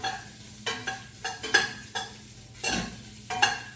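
Ham browns in a pot with a soft sizzle, broken by about seven rhythmic scraping stirs of a utensil against the pot, close and fairly quiet.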